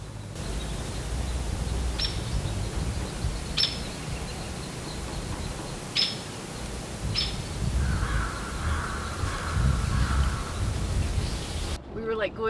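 Birds call at Dogtown Campground in Williams, Arizona: a few spaced, crow-like caws sound at moderate distance over a steady wash of wind and outdoor noise.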